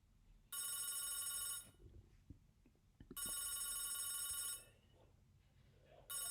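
An old telephone bell rings in two long bursts with a third starting, loud and metallic, separated by quiet room sound with a few faint knocks.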